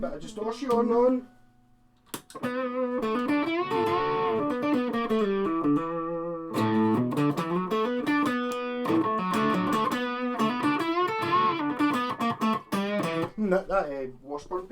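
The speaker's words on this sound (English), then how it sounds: "Stick a wee bit of distortion on." Distorted electric guitar from a 1979 Yamaha SG200 played through both pickups and a distortion pedal, loud and close, with sustained chords and riffs after a brief pause near the start.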